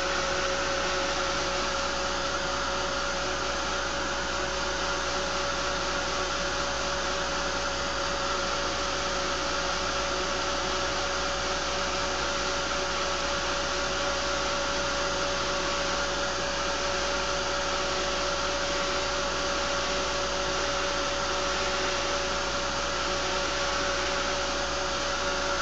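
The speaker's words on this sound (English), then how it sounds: "I'm going to dry up a little bit because it's just too wet for me to add any more details." A heat dryer blowing steadily on wet mixed media paint on pop art face tiles, a loud continuous whirring roar with a constant pitch and no pauses, close and alone.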